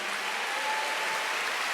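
A church congregation applauds during a Sunday service, a dense, even wash of clapping from a large room that holds steady, fairly soft, with no voices over it.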